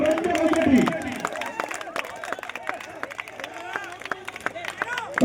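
A crowd claps at a tug-of-war match in Kannur, with scattered hand claps in fast irregular bursts under a loud announcer's voice.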